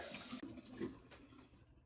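Lukewarm tap water splashes and runs as a face is rinsed at a bathroom sink, a steady close wash of water with brief splashy surges and no talking.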